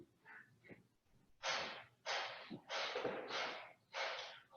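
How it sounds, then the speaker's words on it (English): Breath of fire during a yoga session: after two faint soft breaths, five sharp, forceful nasal exhales come in quick succession, close and clear in an otherwise quiet room. "Inhale deeply and breath of fire."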